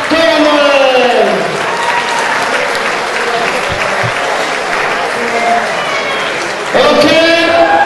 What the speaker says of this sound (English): Big round of applause for Mr. Rory